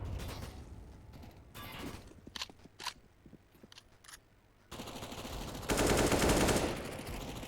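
Desert Eagle pistol shots ring out during a Counter-Strike match, a few sharp sporadic cracks amid mechanical clicks and game ambience, followed by louder broadband bursts of firing.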